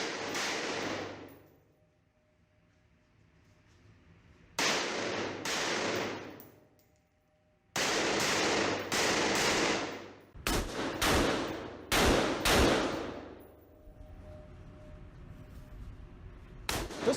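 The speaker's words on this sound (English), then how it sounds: "Every time I bring it up, I'm going to put 2 rounds where they need to be." Rifle fire during a night shooting drill: about ten loud, sharp shots, most in quick double-tap pairs with pauses of a second or more between groups, each with a short echoing tail and no talking.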